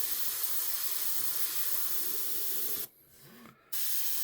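A hobby airbrush spraying paint gives a steady, close hiss that runs without a break, then cuts out briefly near the end before the spray starts again.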